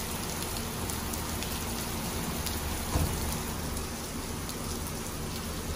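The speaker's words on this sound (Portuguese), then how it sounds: "a chuva aumentou" Heavy rain pours steadily outside a church beside a cemetery in Santa Catarina on a cold day, making a dense, even hiss with a slight swell midway and no one speaking.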